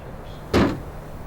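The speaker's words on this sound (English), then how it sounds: "When the door opens" A house door opening in winter, one brief thump and rattle standing out alone against a quiet room.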